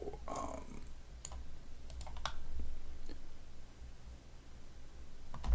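Computer keyboard clicking during work in Blender: a few scattered, faint key taps over low background hum, loosely spaced rather than continuous typing.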